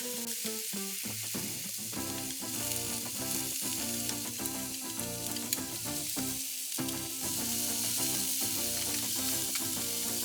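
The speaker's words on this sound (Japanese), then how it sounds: "卵を焼きます。" Beaten egg sizzles loudly and steadily in a hot frying pan while making a bento, a continuous dense crackle throughout, with tonal background music underneath.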